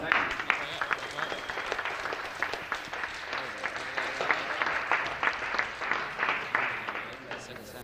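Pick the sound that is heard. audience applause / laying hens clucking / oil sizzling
audience applause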